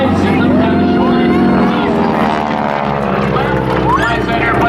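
A T-6 Texan trailing smoke roars past low along the shoreline at an air show at about 200 mph, a loud propeller drone with shifting pitch under an announcer's voice and crowd noise.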